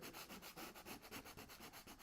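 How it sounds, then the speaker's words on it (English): Quick, steady back-and-forth sanding strokes rasp against an oil painting surface up close, about ten rhythmic passes with no talking. "So I'm sanding this down a little bit."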